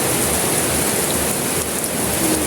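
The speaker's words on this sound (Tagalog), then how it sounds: "lumakas talaga yung ulan" Heavy rain pouring steadily, a loud, dense, continuous hiss with no breaks and no talking.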